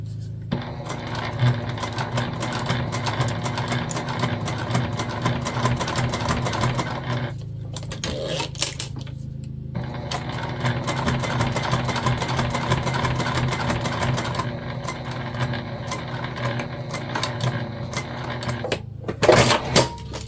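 A sewing machine stitches and backstitches a zippered ID holder in rapid mechanical bursts with brief stops between runs, close and steady.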